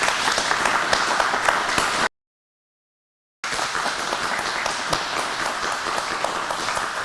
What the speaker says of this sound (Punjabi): ਤੁਸੀਂ ਸਾਡੇ ਜਿਹੜੇ ਮਹਿਮਾਨ ਨੇ ਤਾੜੀਆਂ ਮਾਰ ਦਿਓ ਜੀ ਗੈਰੀ ਸਿੰਘ ਜੀ ਵਾਸਤੇ